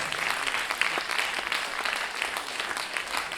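An audience at a Lyon slam poetry tournament applauds a poet, dense continuous clapping from a crowd filling the room, steady and fairly close throughout.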